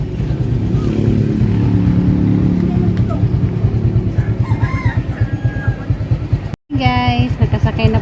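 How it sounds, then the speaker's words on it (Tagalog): A motorcycle ridden outdoors gives a loud, continuous low engine rumble and wind noise, with a rooster crowing and chickens clucking nearby partway through. "Guys, nakasakay na po kog motor."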